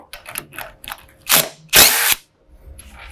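A ratchet backs out the bottom bolts of a roll cage on an off-road machine, giving a few short clicking bursts followed by two louder, longer close-up ratcheting runs, then quiet.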